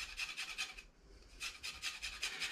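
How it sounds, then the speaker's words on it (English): Lime rubbed against a zester, giving a steady series of close, dry rasping strokes in quick rhythm with a brief pause midway, no talking. "gently rub the lime all the way around to get that zest off"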